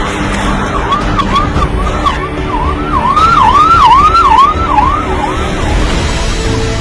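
A wailing ambulance siren sweeps up and down in steady cycles, loud and fairly close, over a constant rumble of road traffic.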